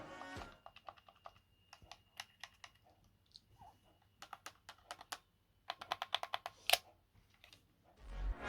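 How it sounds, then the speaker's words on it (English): Buttons on a Gamrombo PS5 controller pressed in quick bursts, giving close, crisp plastic clicks in uneven runs with short pauses between, loud against a quiet room. "Here's the ASMR of the buttons being pressed."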